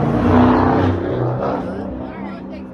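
A car passes close by on a street in Wichita, its engine noise loud at first and fading as it moves away, with people talking and background babble throughout.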